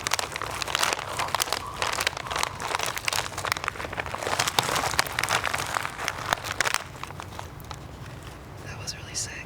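Close crinkling and crumpling of material for ASMR, made in quick irregular crackles, with people talking over it.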